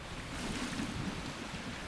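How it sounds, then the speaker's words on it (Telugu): Water gushes from a lever-operated pipe in the video game Dead Island 2, a steady, loud, rushing wash that runs unbroken for about two seconds with no voices over it. "మనం అది లిఫ్ట్ చేయగానే కొంత వాటర్ పోర్ చేసి వదిలేస్తుంది"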